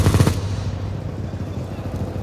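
LMG machine gun fire during a Counter-Strike match, a short rapid burst of loud shots at the start that gives way to quieter game sounds.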